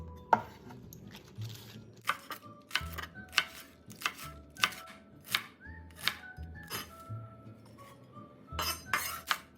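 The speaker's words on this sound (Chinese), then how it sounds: "包菜500克，清理干净，手按扁，再切成约1公分条状。" A knife chops cabbage into strips of about one centimetre on a board, with steady, evenly spaced crisp thuds and faint clinks, close and fairly quiet.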